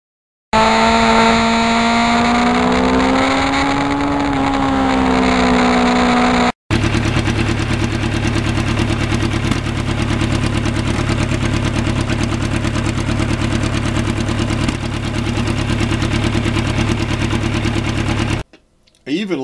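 A restored 1991 Yamaha FZR1000 motorcycle engine idles with a steady, throbbing rumble, preceded by a rising-and-falling revving tone at the start; the sound continues close and loud throughout.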